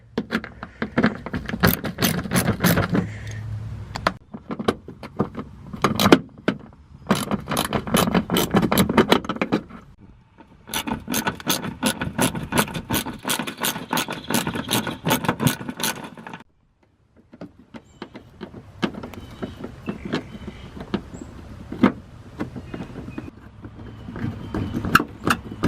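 A ratchet works panel fasteners out of a Ford F150 wheel well cover, with bursts of rapid close clicking separated by pauses, scrapes and handling noises.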